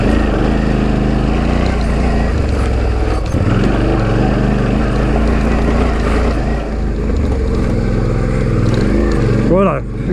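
Suzuki V-Strom DL650 motorcycle engine roars steadily while riding, a loud continuous drone with wind buffeting, and the pitch rises and falls with gear changes near the end.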